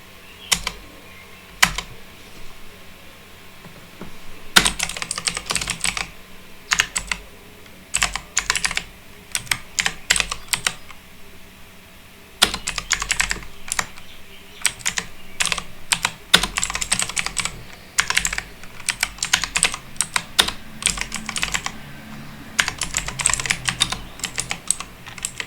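Code typed on a computer keyboard, with quick clattering keystrokes in bursts and short pauses across the whole stretch, close and clear with no talking.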